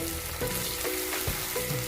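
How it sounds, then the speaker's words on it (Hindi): Chicken changezi frying in a pan, a short burst of steady sizzling with a few soft scraping stirs, close and moderately loud, with no talking. "अच्छे से इसकी भुनाई करनी है"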